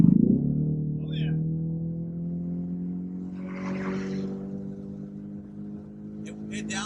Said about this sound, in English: It downshifted beautifully for me there.